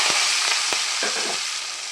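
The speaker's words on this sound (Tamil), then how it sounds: "கடுகு பொரிய ஆரம்பித்த உடனே நம்ம கட் பண்ணி வச்ச வெங்காயமும் கருவேப்பிலையும் சேர்த்துக்கலாம்." Chopped onions and curry leaves hitting hot oil with spluttering mustard seeds and urad dal, a loud close sizzle with several sharp pops and crackles early on, then a dense hiss.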